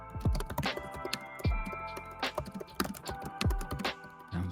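Heavy, forceful typing on a computer keyboard close to a microphone, with irregular bursts of sharp clacks and thumping keystrokes, some louder key hits and spacebar thuds standing out.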